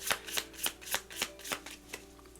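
A deck of tarot cards being shuffled by hand, with about eight quick, crisp riffling bursts in a regular rhythm, close up and heard alone.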